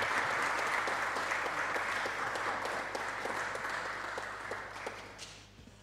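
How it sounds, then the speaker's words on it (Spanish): An audience of a mock legislative session applauds in a steady, dense burst of clapping that holds for several seconds and then gradually thins and fades. "Podemos aplaudir."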